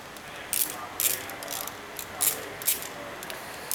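Ratchet handle spinning a loosened Loctite-treated bolt out of the end of a Kawasaki Z900 handlebar, a steady run of rapid pawl clicks with sharper bursts roughly every half second, close up.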